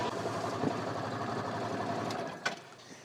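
A 3,500-pound winch mounted on a HISUN Sector 750 UTV pulls its line with a steady, close motor whine and drone that holds throughout, ending with a short clunk.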